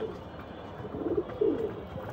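Pigeons in a flock of about fifteen kept by a breeder, a couple of soft low coos close by over a quiet background.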